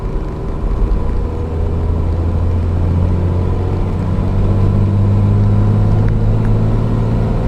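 A 12-valve Cummins diesel truck engine rumbles close and loud, with a steady low drone that swells as it revs and a rising whine toward the end.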